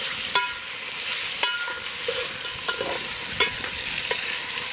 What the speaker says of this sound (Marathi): यामध्ये आपण मटण मिक्स करूया